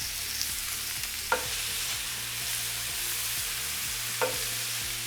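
Zucchini and other vegetables sizzling in a skillet over medium-high heat, a steady frying hiss with repeated low scraping of stirring and two sharp clacks of a utensil against the pan.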